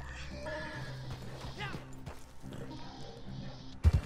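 A horse in the Red Dead Redemption 2 video game whinnies and neighs amid in-game ambience and hoof movement, with a sharp thud near the end.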